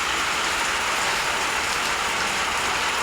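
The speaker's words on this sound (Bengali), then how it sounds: "এই যে প্রচুর বৃষ্টি হতেছে" Steady, dense rainfall roars without a break, a broad hiss of many drops hitting surfaces nearby at Tarapur Bazar, Rupganj, Narayanganj, Bangladesh, with no voices.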